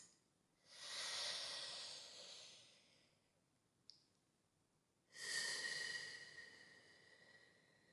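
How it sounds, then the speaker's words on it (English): Two slow, deliberate breaths, each a long airy rush lasting a few seconds and then fading, separated by a quiet pause with a small click, close and soft with no talking. "let's take a second to inhale 4 counts and exhale 4"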